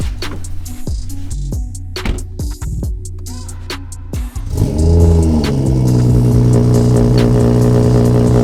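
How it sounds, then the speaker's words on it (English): A car with a BMW B58 engine, tuned for rolling anti-lag, pulls away after a run of sharp, loud mechanical clicks and knocks, then holds a steady, loud engine drone close by with no one talking. "I'm actually going to drive around for a little bit just to warm up the engine"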